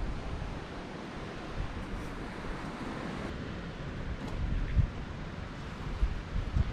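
Strong wind gusting across the Juramento River in Salta, with choppy water lapping beneath a steady broadband roar; a few louder gusts and knocks stand out near the end, and nobody speaks.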